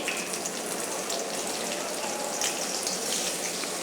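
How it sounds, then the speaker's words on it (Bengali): Three chopped onions sizzle and fry in a hot pan for a raw jackfruit curry, a steady dense hiss of oil and moisture without pause. "আমি যে তিনটা পেঁয়াজ কুচি করে রেখেছি সেটা এর ভিতরে অ্যাড করে দিচ্ছি"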